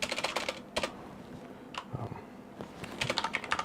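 Someone types on a computer keyboard while entering spreadsheet figures, producing close, quick bursts of key clicks separated by short pauses, with no speech.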